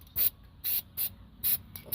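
Cleaner is sprayed onto battery terminals in about five short, sharp hissing bursts with brief pauses between them, close and distinct.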